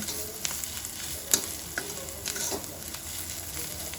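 Onions fry in a pan and are stirred while browning, making a soft steady sizzle broken by occasional scraping clicks and taps, fairly quiet and close, with no talk.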